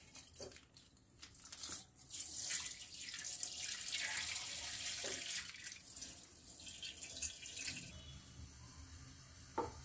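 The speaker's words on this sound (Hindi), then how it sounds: "और ये जो 1 लीटर दूध है इसको मैं इसमें डाल देती हूँ।" One liter of milk pours in a steady, continuous stream into a kadai sitting on a gas stove, a close liquid gush lasting several seconds before tapering off.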